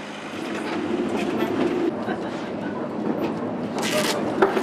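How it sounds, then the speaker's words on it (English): A train rumbles and clatters steadily as it arrives at a station in Wales, with a brief hiss of brakes or air near the end and faint voices in the background. "We're going once the other train arrives."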